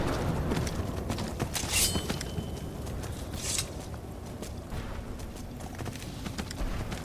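Horse hooves clip-clop steadily through the Skyrim video game, a continuous trotting rhythm layered over a dense ambient game soundscape with a faint whinny-like tone.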